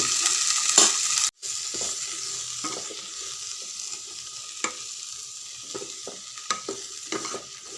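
Ginger garlic paste and garam masala stirred in a frying pan for a vegetable curry, a steady close hiss of frying with occasional scraping and tapping of the spoon against the pan.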